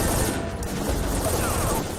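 An enemy in a Metal Gear video game empties a full magazine into a room: a sustained, busy burst of rapid gunfire that stays steady and fairly loud throughout.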